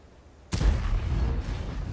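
A single heavy boom from a Rhm.-Borsig Waffenträger tank destroyer's gun in World of Tanks fires suddenly and loud, followed by a rumbling tail that lingers without talking.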